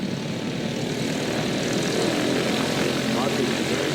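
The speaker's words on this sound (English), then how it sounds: "Here comes the airplane." A propeller airplane passes overhead at an air show with a flying-circus act, a steady loud engine drone filling the whole clip.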